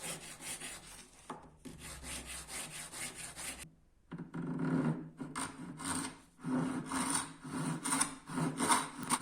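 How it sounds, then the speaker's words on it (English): A rasp shapes a wooden mallet held in a vise, making rough, raspy strokes in repeated bursts with a short pause midway, close and steady. "shaping with a rasp."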